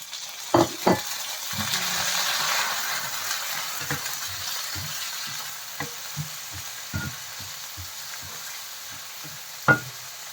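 Onion and tomato sauté in a pan, with a soft steady sizzle underneath. Sharp clicks and taps of a utensil against the pan break in at irregular intervals, close by and fairly quiet, with no talking.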